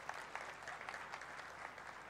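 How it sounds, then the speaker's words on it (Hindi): A crowd at a public speech event in Nagpur applauds to welcome a guest, a faint, continuous patter of clapping heard from a distance. "आप तालियां बजाकर इनका स्वागत करिए।"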